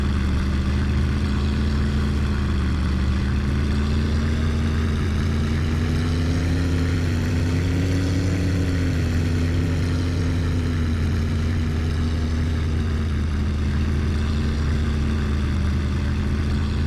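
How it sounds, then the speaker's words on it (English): A tractor engine runs steadily and loudly up close, a continuous low drone with a slight rise and fall in pitch and no talking. "this is really hard to hear over the sound of the tractor"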